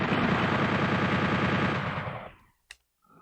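Sustained rapid automatic gunfire in Doom 64, played on N64 hardware, roars loud and dense for about two and a half seconds, then cuts off abruptly and leaves a single short sharp click in near silence.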